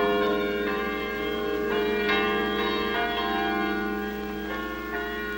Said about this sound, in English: The sound of its bells intruding majestically into the sounds of traffic